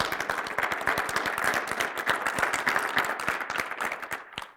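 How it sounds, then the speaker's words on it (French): An audience at a talk bursts into applause, a dense, steady patter of many hands clapping at moderate distance for a few seconds before fading out. "Vous pouvez les applaudir"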